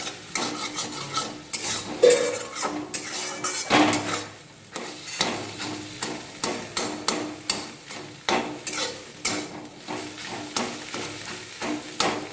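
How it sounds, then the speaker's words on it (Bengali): Egg frying in a pan for egg chicken chow mein, with repeated scraping and stirring strokes of a spatula against the pan over a soft sizzle, rhythmic and close. "এরপর ডিমটা আমি ভালো করে এইভাবে ভেজে নিয়ে কেটে নেব"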